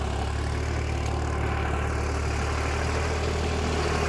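A New Holland 3600 tractor engine runs at a steady idle nearby, a constant low diesel rumble with no variation and no voices.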